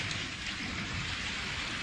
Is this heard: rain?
yes